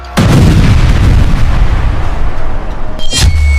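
A powerful explosion booms and rolls on as a heavy, sustained rumble, ending with a sharp crack and fading debris noise.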